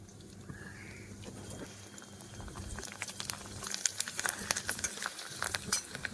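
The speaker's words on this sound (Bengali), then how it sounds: "দেখুন আমরা ব্যাট পাঁপড় ভাজছি" Papads fry in hot oil in a home kitchen, a bubbling sizzle that swells into dense, loud crackling and popping, close to the pan.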